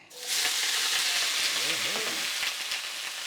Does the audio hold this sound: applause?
no